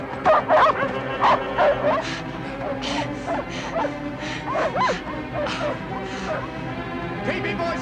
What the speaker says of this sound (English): Release the dogs!